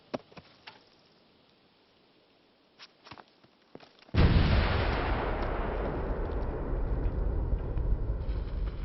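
A big gun in a video game fires one heavy booming shot that rumbles on as a sustained roar, after a few scattered light taps and clicks.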